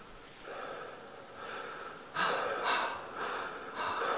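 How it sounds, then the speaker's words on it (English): Heavy, audible breaths repeat in a steady rhythm of rough, hissy inhales and exhales, close and moderately loud, growing stronger partway through. "Heavily breathing."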